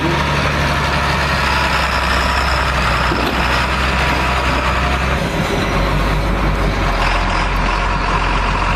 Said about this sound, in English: That thing sounds like a diesel truck.